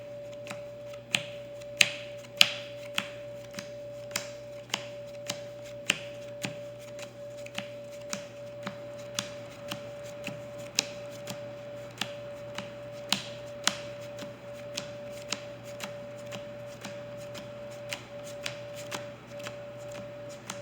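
A Yu-Gi-Oh deck of playing cards is shuffled by hand at close range, with soft, quiet rhythmic riffles and sharper snaps repeating every second or so over a steady low hum.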